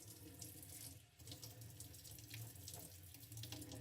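Water runs steadily from a tap into a sink, a continuous splashing rush with no voices.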